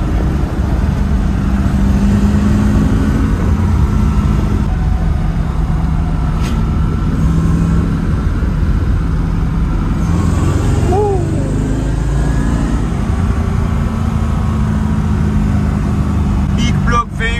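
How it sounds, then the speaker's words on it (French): Mercedes 5-litre M113 V8 swapped into a BMW E36, rumbling loudly in a forest setting with a steady deep drone and a brief rising rev partway through, voices talking over it. "Big block V8 waking up the forest."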